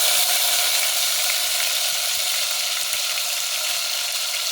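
Ginger garlic paste frying in hot oil with cinnamon, cloves and cardamom, a dense, even sizzle crackling close and loud throughout.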